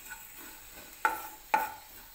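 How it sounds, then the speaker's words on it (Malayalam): Grated coconut roasts in a pan while being stirred, a faint dry sizzle broken by two sharp scraping strokes of the spoon against the pan, close by. "അപ്പോൾ നമ്മുടെ തേങ്ങ വറക്കുന്ന പാർട്ട് ഇവിടെ കഴിഞ്ഞു."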